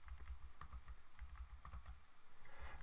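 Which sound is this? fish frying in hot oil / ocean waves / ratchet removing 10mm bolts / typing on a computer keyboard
typing on a computer keyboard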